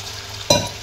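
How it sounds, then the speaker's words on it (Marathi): Ridge gourd dropped into hot oil for tempering gives a sudden loud sizzle burst halfway through, after a quiet low hum, close and brief. "इथे मी दोडक्याची भाजी फोडणीला टाकलेली आहे"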